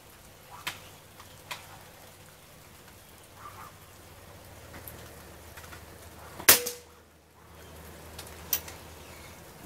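A tuned Kral Arms Puncher Mega .25 pump air rifle fires one quiet, sharp crack, with only faint ticks and low background rumble around it.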